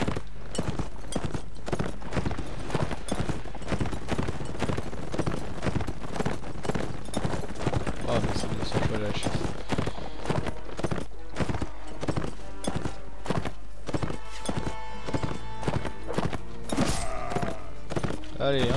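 Horse hooves clattering steadily in a medieval battle in Mount & Blade: Warband, a dense, continuous clip-clop of several mounts over game noise, with someone talking over it.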